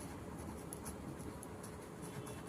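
Steady scratchy writing on a surface during a Class 10 maths lesson on real numbers, a continuous close scraping texture with no voices over it.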